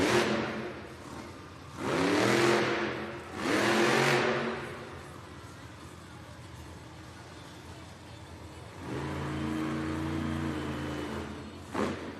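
Monster Jam monster truck Sparkle Smash in an arena event, its engine roaring loud in several rising revs, two close bursts early, then a sustained rumbling run later, with crowd and arena noise between.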